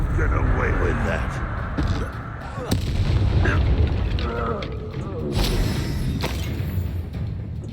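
Confringo blasting spell explosions in the video game Hogwarts Legacy, loud booming blasts and crackling impacts over a dense combat soundscape, with a voice talking throughout.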